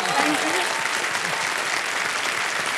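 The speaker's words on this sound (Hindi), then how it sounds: "तालियां बज जाए उनके लिए" A studio audience applauds on the quiz show Kaun Banega Crorepati as a guest is welcomed; steady, dense clapping runs throughout, with a host's voice briefly audible at the start.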